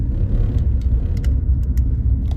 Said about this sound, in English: I didn't think I was ever going to get used to that Highway 21 noise.